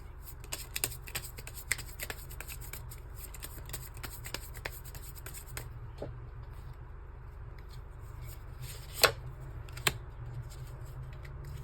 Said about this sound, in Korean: 1번 분들은 제가 추가 카드 먼저 한번 뽑고 시작할게요